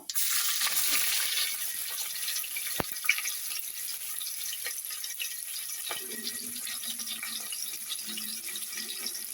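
Chopped onion sizzles in hot sunflower oil in a pressure cooker, after cumin seeds have crackled, while paneer pulao is being made. The steady, bright frying hiss runs throughout, with faint stirring scrapes and no talk.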